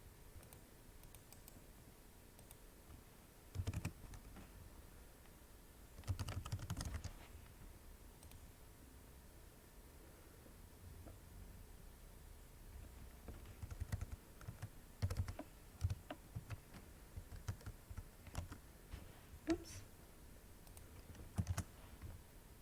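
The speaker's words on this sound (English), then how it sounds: "Always make sure you're actually typing when you think you're typing." Keys clack on a computer keyboard in short scattered bursts, quiet and close, with pauses between clusters of typing and a few sharper clicks.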